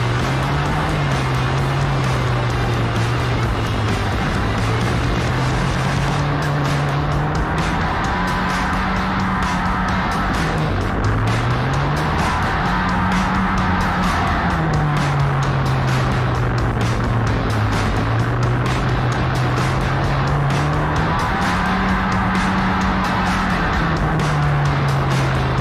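500cc grass track motorcycles with no brakes racing around a track, a continuous loud engine drone rising and falling in pitch as the bikes slow into corners and accelerate out, with no talk.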